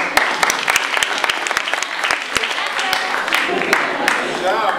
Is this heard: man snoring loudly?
no